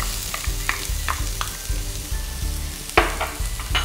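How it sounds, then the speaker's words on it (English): Onion, garlic and capsicum sauteing in oil in a pan: a constant sizzle with repeated scraping stirs, and a rhythmic pulsing hum from the stove running underneath. "we'll saute the onion and capsicum until they soften"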